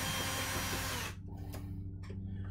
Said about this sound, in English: So I got my screw gun here.